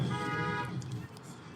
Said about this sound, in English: Lots of honks today